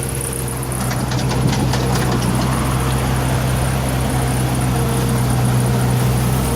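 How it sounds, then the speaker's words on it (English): Electric radiator cooling fans on a truck, dual fans in a homemade aluminum shroud, run at a steady close whirring drone with a constant low hum and no speech. "I just turned the fans on."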